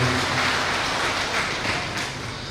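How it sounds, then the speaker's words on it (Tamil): An audience at a Devanga Chettiar community meeting in Valparai claps steadily in a dense, sustained wash of applause that fades slightly toward the end. "உங்கள் கைதட்டுதல் மூலமாக நாகராஜ் அவர்களுக்கு சிறப்பாக ஒரு நன்றியை தெரிவித்துக் கொள்ளலாம்"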